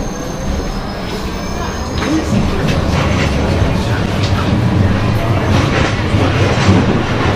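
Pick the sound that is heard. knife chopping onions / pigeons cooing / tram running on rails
tram running on rails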